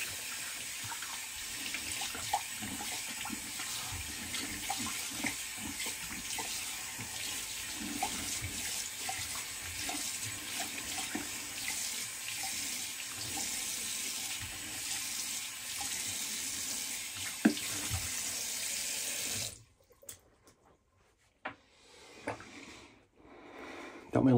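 Cold tap water runs steadily into a sink for about twenty seconds while alum is rinsed off after a wet shave, then cuts off, leaving a few faint drips and handling sounds.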